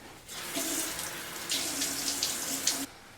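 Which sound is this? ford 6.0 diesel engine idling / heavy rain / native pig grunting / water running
water running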